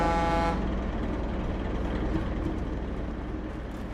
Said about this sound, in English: I mean, it's a pretty decent air horn.